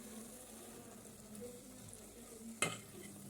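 Brinjal curry with sesame frying in a pan, a faint steady sizzle with soft stirring and one sharp clink of a spoon against the pan near the end.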